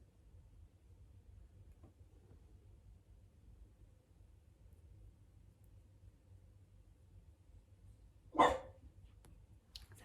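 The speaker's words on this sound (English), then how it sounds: "Sorry, that is my dog." A dog outside barks once, a short sharp bark heard at a distance over a quiet room hum, wanting to be let in; the rest is near silence.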